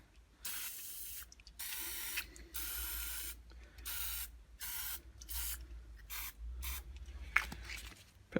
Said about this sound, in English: Bit more spray